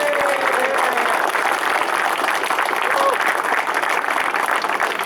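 Sustained applause from an audience at a Unite Against Fascism rally in Rotherham, a dense, steady wash of clapping that stays loud and even for the whole stretch, with no voices rising above it.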